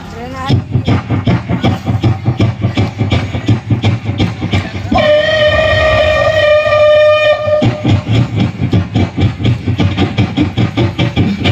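A voice imitates a coal-fired steam train, chugging in a loud, rapid, regular rhythm, then holding a long whistle-like tone for a few seconds before the chugging resumes.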